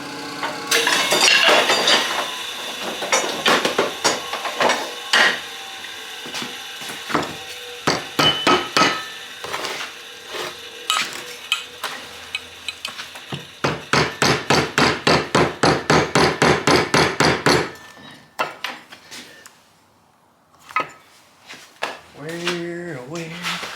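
Homemade metal pounder hammers at a seized piston in an old cheap chainsaw, with bursts of sharp clanking blows, including a fast rapid-fire run of strikes mid-way, then a pause and a few final knocks.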